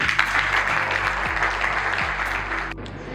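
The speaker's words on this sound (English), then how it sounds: "I really want to give a big, big round of applause to all the people of this community" Community audience applause at an evening gathering, a steady dense clapping from many people over a low electrical hum, cutting off abruptly near the end.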